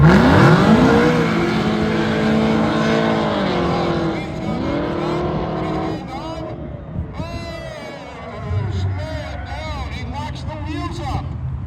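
A 1970 El Camino with a 400-cubic-inch small block launches at a midnight drag race, engine roaring loud and close with rising revs, then fading as other engine noise and crowd sounds continue.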